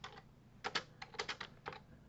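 Fingers type on a computer keyboard in short, uneven bursts of quick clicking keystrokes, close and fairly soft, with no voice over them.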